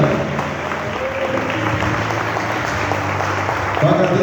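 A church congregation applauds strongly during an evangelical service, dense continuous clapping from a crowd at steady loudness, with voices mixed in.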